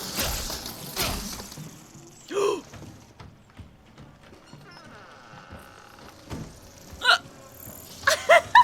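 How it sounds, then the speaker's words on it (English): A girl hiccups several times during a horror game, with sharp sudden catches spread across the stretch and a quick cluster near the end, over faint game noises and low background sound. "My hiccups won't stop."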